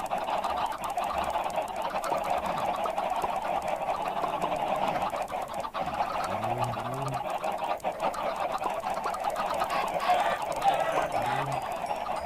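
Chickens cluck and squawk in a Minecraft modpack game, a steady flock chatter of clucks and short honk-like calls close by, continuous throughout with no talking.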